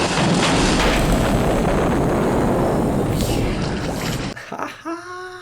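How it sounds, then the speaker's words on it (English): A huge explosion from the 1965 film Thunderball: a loud, sustained roaring blast rumble filling several seconds, then cutting off into brief quieter sounds with a short voice at the end. "That was a huge explosion too."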